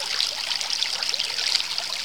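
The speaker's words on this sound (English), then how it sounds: "So that much water is now coming out of it," Meltwater runs out of a freshly cleaned-out culvert end at a creek washout, a steady, bright, rushing trickle that carries on without a break, close by and with no voices.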